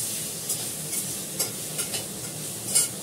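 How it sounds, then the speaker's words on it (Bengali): Lentil chutney with garlic, dried chilli and salt being stirred in a pan on an induction cooker, a constant soft sizzle with periodic light scrapes of the spoon, alone without talk. "চাটনিতে নুনও দিয়ে দিলাম এবার নাড়াচাড়া করবো"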